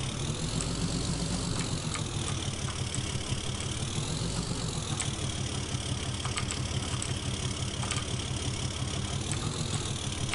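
A Cummins diesel truck engine idles steadily in Farming Simulator 2015, a low, even rhythmic chug that holds at moderate volume throughout with no voices over it.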